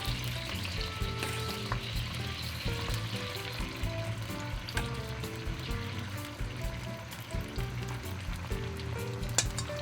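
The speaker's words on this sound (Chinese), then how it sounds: "粉浆都加进去之后，我们呢就让它慢慢的煎" Oyster omelet batter fries gently in a pan over medium-low heat, a soft steady sizzle and crackle with faint bubbling underneath and an occasional small pop, no talking.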